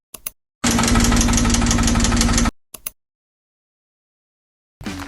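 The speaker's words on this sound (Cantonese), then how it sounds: "保時捷997喺香港引擎故障，無法正常行駛。" A faulty Porsche 997 engine runs in Hong Kong for about two seconds, a loud, rough, knocking drone that cuts off abruptly, with short bursts of sound before and after.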